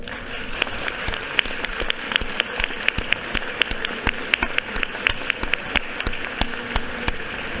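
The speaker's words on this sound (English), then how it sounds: "Would you please honor them with an applause?" Applause in a legislative chamber honoring a grieving family: steady, even clapping from many hands throughout, moderately near, with no talk over it.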